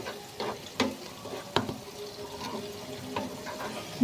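Pea dal fries in a pan, a quiet bed of sizzle broken by several sharp clinks and scrapes of a stirring spoon against the pan, with no voices.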